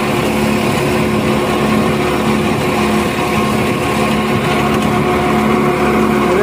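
A New Holland 3510 tractor pulling a 10-foot rotavator runs at a steady, loud drone, with the engine's hum and the implement's churning rumble holding constant throughout, close by and alone.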